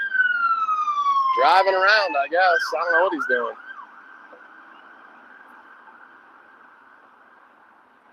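An ambulance siren wails loudly and close by, rising and falling in a rapid yelp before it cuts off and a faint steady tone lingers, with someone talking over the start.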